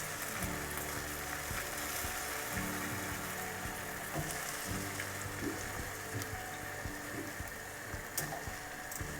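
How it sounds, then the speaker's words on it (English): Jalebis, fried coils of batter, sizzling as they soak in hot sugar syrup, a dense steady crackle and fizz throughout with faint scattered pops. "they sizzle and start soaking up the syrup straight away"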